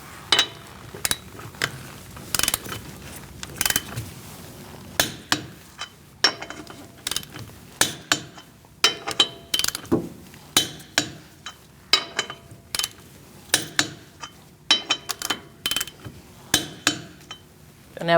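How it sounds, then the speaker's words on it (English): A 19mm socket on a torque wrench tightens the front wheel lug nuts of a 2016–2019 Chevrolet Cruze to 100 foot-pounds, giving irregular clicks, metallic clinks and ratcheting bursts, close and sharp, with quiet gaps in between. "Using a 19mm socket, we're going to torque our wheels to 100 foot-pounds"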